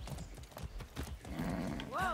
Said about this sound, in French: On peut monter à cheval, on va monter à cheval, écoutez.